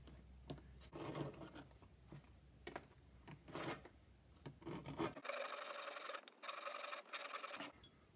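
Repeated rasping strokes of a saw cutting wood, rhythmic and close, with the scraping growing denser and brighter partway through.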